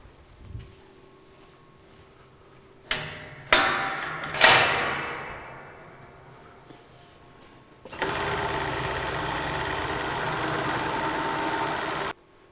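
An ATEX pneumatic, air-powered 205-litre drum tumbler (model DMP01-Ex) starts spinning its drum. A few metallic clanks come first, then a steady, loud whirring hiss that runs unbroken for about four seconds and stops abruptly.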